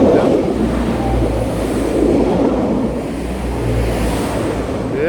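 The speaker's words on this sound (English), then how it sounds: "we could hear a train coming and making all this nice" A train bound for Manchester passes on an evening walk in England, a loud, continuous low rumble of rolling wheels and engine that holds steady throughout, with no talking.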